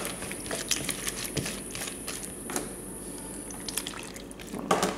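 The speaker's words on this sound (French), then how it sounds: "Juste un tout petit peu d'eau." A small splash of water added to a Moroccan-style baked fish dish gives soft drips and light liquid pattering, close and quiet, with a louder splash near the end and no talking.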